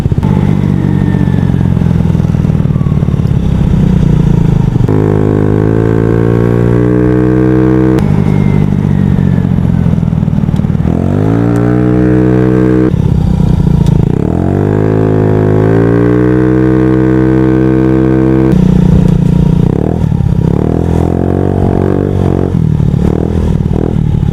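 A Honda Ruckus scooter on a commute ride, its small engine droning loudly and steadily with repeated revving rises and falls as it speeds up and slows, close and continuous throughout.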